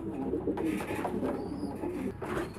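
Young homing pigeon squabs at an auction in Damietta coo softly and repeatedly close by, with a low, rolling rhythm and no talking.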